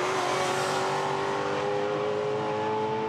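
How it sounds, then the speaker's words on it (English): A GT4 race car at Misano circuit comes through the final corner, its engine a loud, close, sustained drone with a steady pitch throughout. "There's our leader though, Pavel Lefterov, as he comes up to the final corner to start the final lap of the race."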